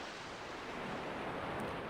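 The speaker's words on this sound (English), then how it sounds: "listen to the waves rolling toward the beach" Ocean waves roll toward a tropical beach in a soft, continuous wash of surf, faint and steady, with a gentle swell building toward the end and no voices.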